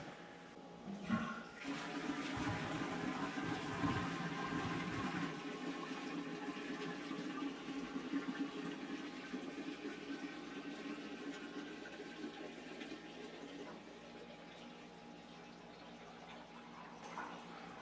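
Water drains steadily from a Langmuir Crossfire Pro plasma cutting table through a pump system, a continuous rushing, gurgling flow that holds up close and then tapers slightly toward the end, with no talking.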